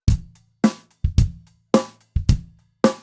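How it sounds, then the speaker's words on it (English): A drum kit plays a sparse groove with no ghost notes, just clear, evenly spaced kick and snare hits with hi-hat, each strike loud and separated by silence. "A group without any ghost notes sounds like this."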